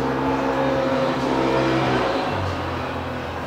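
Car engines hum and rev continuously close by on a busy street outside a concert venue in Stockholm, a steady loud drone with no voices over it.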